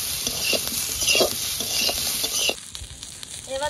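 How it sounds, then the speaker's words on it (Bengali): Chopped green chillies fry in hot oil with a busy crackling sizzle while a utensil stirs and scrapes the pan, then the sizzle drops away to quieter clinks. "শুধু এবার কেটে রাখা কাঁচা লঙ্কাগুলো দিয়ে দেবো"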